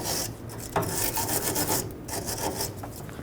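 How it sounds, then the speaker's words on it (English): Harsh, scratchy back-and-forth rasping of a wire brush scrubbing a crusty metal brake hose fitting on a Ford F-150, close up in quick uneven strokes, with no talking. "I'm going to wire brush it just a little bit."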